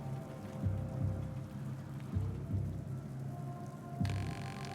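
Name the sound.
rain in the video game We're All Disposable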